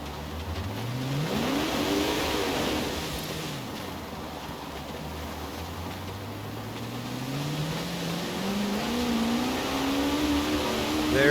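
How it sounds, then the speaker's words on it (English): A Rimac electric hypercar in Forza Horizon 4 accelerates, its drivetrain whine sweeping upward in pitch, easing back, then climbing again steadily and loudly with no talking. "let's jump in here real quick, see how it sounds"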